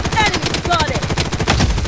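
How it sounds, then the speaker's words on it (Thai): Rapid machine gun fire in the video game Blood Strike, loud and close, with dense repeated shots in quick bursts over nearly two seconds. "มันมีคนยิงอยู่"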